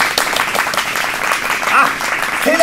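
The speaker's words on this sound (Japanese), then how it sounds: "あ、盛大な拍手ありがとうございます。" Sustained applause from a live audience at a Japanese stand-up comedy monologue, a dense steady wash of clapping across the whole stretch, with a little crowd noise and brief speech-like sounds near the end.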